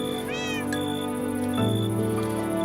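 A cat meows in a Minecraft game, a short rising-falling mew near the start heard over steady game music and ambient tones, with no voices talking.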